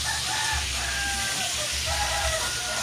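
Chickens cluck and call faintly in a few short bursts beneath a steady hiss resembling rain, with a low background rumble and no clear talking.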